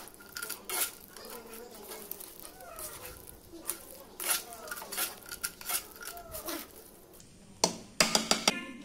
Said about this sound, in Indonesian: Kemudian kita langsung aduk-aduk nih hingga semua bumbunya ini tercampur rata dengan ikan teri, dengan tahu dan juga tempe